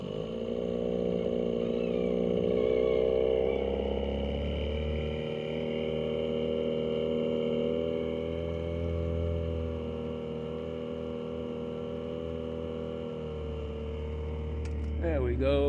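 A boat's outboard motor runs steadily at a slightly raised speed, a continuous droning hum with stable tonal bands that pulls the boat along slowly, fairly close and even, with a brief clatter at the end.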